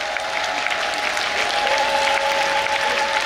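A church congregation clapping together as an acclamation offering during a worship service, steady, even applause with a faint sustained tone underneath throughout.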